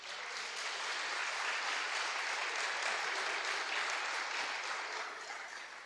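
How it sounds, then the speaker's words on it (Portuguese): A church congregation applauds together in a dense, sustained wash of clapping that swells, holds steady and then fades at the end. "vamos aplaudir a Jesus"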